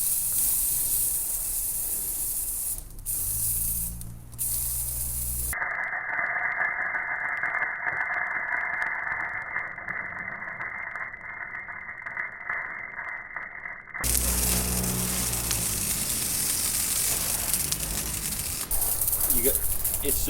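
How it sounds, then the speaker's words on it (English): An aerosol fire extinguisher sprays onto a grease fire with a steady, loud hiss lasting several seconds, set between stretches of rougher crackling and clattering noise. "This is the aerosol extinguisher."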